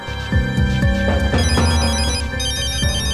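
An electronic phone ringtone plays a repeating melodic pattern of bright tones, loud and close, with no speech.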